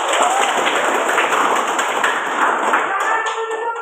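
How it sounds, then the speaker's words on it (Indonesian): Classroom students clapping their hands together on cue, a loud, dense burst of close clapping that runs continuously without pause, with some voices mixed in. "tepuk tangan dong."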